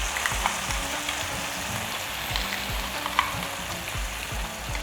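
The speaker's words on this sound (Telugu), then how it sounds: "ఆవాలు చిటపటలాడుతుంది ఇప్పుడు నేను కొంచెం కరివేపాకు కూడా వేసేస్తున్నాను" Mustard seeds and curry leaves splutter in hot tempering oil in a pan, a steady close crackle and sizzle with quick pops throughout.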